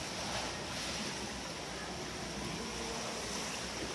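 Swimmers churn the water of a pool during a flutter-kick sprint, kicking either underwater or on the surface; a continuous, dense wash of splashing fills the whole stretch at steady loudness with no talk.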